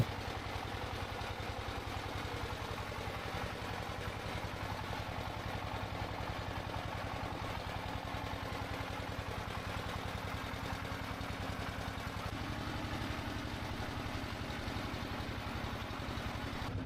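A boat engine on a river trip to Sylhet's Sada Pathor runs with a steady, even drone for the whole stretch, close and alone with no talk.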